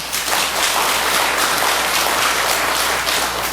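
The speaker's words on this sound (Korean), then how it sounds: "거사님한테 박수 한번 칩시다 또." Audience applause in a room during a Buddhist monk's Dharma talk, steady dense clapping filling the whole clip at close range with no speech over it.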